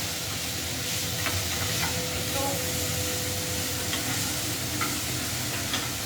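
Cauliflower pieces fry in a pan with a loud, continuous close sizzle and hiss, with faint occasional taps of a utensil and no speech.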